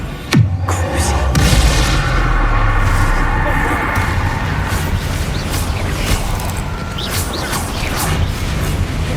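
The Confringo fire spell in Hogwarts Legacy goes off with a sharp explosive burst near the start, followed by a second hit and a sustained rumbling, crackling wash of combat noise.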